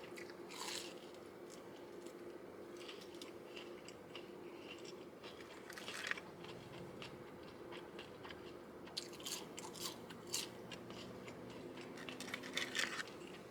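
Crunchy chewing of KFC fried chicken close to the ear, with repeated crisp crackles and bites over a low room hum.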